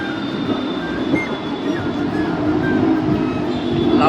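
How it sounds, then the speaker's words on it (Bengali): Rumbling traffic of Egyptian motorbike haulers and vehicles passing by in the background, a steady rolling roar with occasional squeals, mid-distance and continuous. "ব্যাকগ্রাউন্ডে যেটা নয়েজ পাচ্ছেন এটা মাসরি বাইকের হলারের সাউন্ড।"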